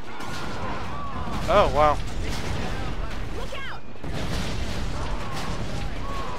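Sniper rifle and blaster pistol shots in Star Wars Battlefront 2, played on a modded Yavin 8 tundra map. Sharp bursts of fire stand out against busy battle noise, and a player briefly exclaims over it.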